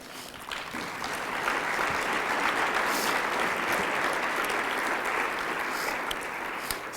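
Audience at a leadership conference gives a speaker sustained applause, a broad, even wash of many hands clapping that swells quickly and holds steady, with no talking over it.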